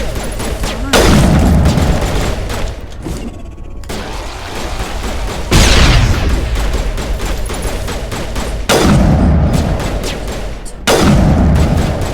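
Heavy gunfire rattles in Mass Effect while shooting zombies, loud dense bursts of shots and booms surging in several waves, with a voice talking over part of it.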